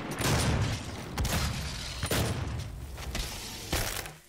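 A super shotgun in a Doom SnapMap level fires several heavy booming blasts at an uneven rhythm, loud and close with no talk over them.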